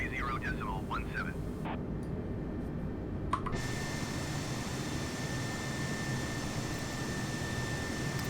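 An airliner in Microsoft Flight Simulator 2020, climbing at night out of Paris, gives a steady broadband cabin and engine roar with a thin constant tone, plus a few brief clicks and electronic chirps early on.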